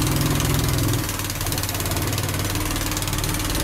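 Honda GX160 engine running a generator through a Geet system, a loud, steady mid-pitched thrum close by, dropping slightly as it is throttled back about a second in and then settling into an even idle.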